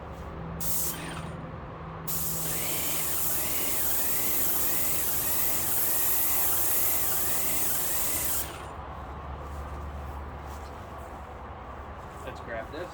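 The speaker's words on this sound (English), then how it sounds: "but it is a spray gun, and you're going to get some here and some there" A Magnum Project Painter Plus paint spray gun hisses loudly in a long continuous burst for about six seconds outdoors, with a fainter earlier puff and quieter background noise after.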